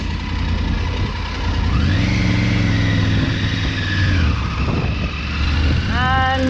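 A Triumph Tiger 900 Rally Pro motorcycle rides off-road with its engine running loud and close, its pitch climbing and falling as it accelerates and shifts, amid wind rumble.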